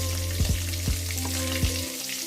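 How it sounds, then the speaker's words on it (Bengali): Dried red chillies and whole spices sizzling in hot oil, a steady close fry with a few sharp pops and crackles before it settles. "শুকনো লঙ্কা চিড়ে ফোড়ন দিলাম"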